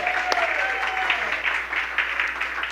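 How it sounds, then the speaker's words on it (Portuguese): Church congregation applause during a service, a moderate steady patter of many hands under sustained tonal music, with a voice or instrument gliding over it. "Você pode dar uma salva de palmas para eles?"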